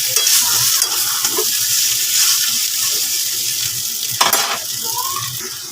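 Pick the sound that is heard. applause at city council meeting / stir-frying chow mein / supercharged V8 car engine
stir-frying chow mein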